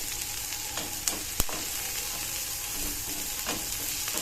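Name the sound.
potatoes frying in oil before tomatoes are added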